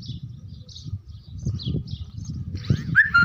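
Pigeons flying overhead chirp and coo faintly over a low fluttering rumble, with a sharper call near the end, heard outdoors at moderate distance.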